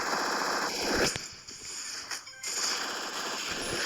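Rapid continuous gunfire from a video game, with dense bursts of shots packed together over a busy, loud game soundscape, close and sustained with a brief dip midway.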